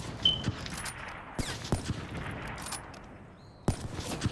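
Scattered gunshots in the Black Ops 3 video game during a one-on-one match: several sharp, separate cracks over a low continuous game background, spaced irregularly.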